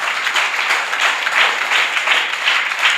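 An audience at an evening church prayer meeting in Warangal claps together, a steady dense patter of many hands that swells and eases in soft waves, with no talk over it.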